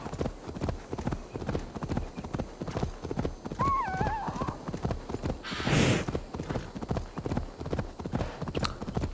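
In Assassin's Creed Valhalla, hooves clip-clop in a steady rapid rhythm on a road, with a short horse whinny midway and a brief burst of noise later.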